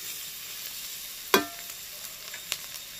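Chicken keema rice being stirred in a pan over heat: a soft continuous sizzle with a sharp scrape of the utensil and a few lighter taps, no voices.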